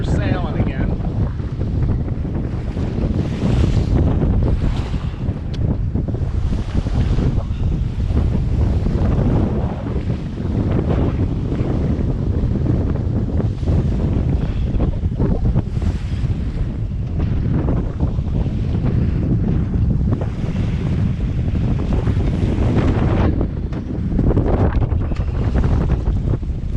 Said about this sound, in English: We still got about 25-30 knots of wind.